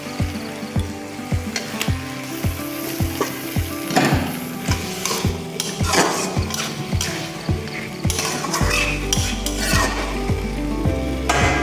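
Chicken pieces frying in hot oil for a chicken curry, a loud close sizzle under a fast, regular mechanical ticking, with scraping stirs and clattering throughout.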